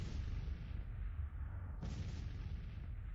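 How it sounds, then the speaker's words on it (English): Artillery booms in the Civil War strategy game Grand Tactician as Confederate-era batteries open fire on a fortified position. The heavy, continuous rumble carries a fresh blast partway through, and no one speaks. "You can see Trebu's guns opening up."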